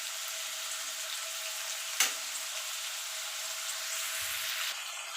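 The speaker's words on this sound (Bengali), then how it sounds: "আপনারা যখন চিংড়ি মাছ ভাজবেন অবশ্যই চিংড়ি মাছটা একটু লাল লাল একটু রং ধরলে নামিয়ে নেবেন" Prawns frying in oil in a pan, a steady bright sizzle throughout with a brief clatter partway, no voices.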